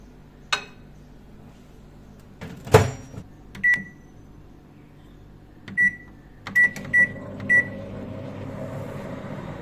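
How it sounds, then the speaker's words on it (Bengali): A microwave heating eggs hums faintly, its door clunks, keypad beeps sound, and then it starts with a low steady whir. Several short beeps are spaced apart. "এরপরে মাইক্রোওয়েভতে ঢুকিয়ে দিচ্ছি এগুলো"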